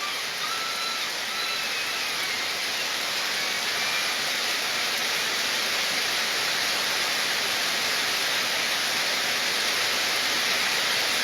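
Heavy downpour on the bank of the Baleshwar River at Mathbaria, a dense steady hiss of rain holding even and fairly loud for the whole stretch, with no voices.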